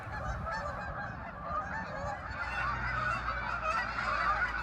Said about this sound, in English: the white spots are snow geese and the brown spots are Canada geese